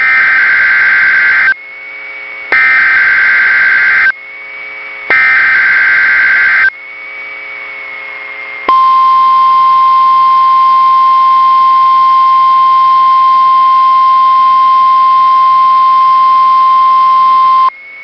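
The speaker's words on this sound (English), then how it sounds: "The preceding signal was a test of the NOAA Weather Radio Public Warning System." NOAA Weather Radio weekly test alert from the Southern Nevada Emergency Alert System: three loud, sharp data bursts in a row, then one long steady tone that holds for about nine seconds, with no talk over it.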